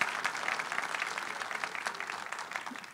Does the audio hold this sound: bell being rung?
no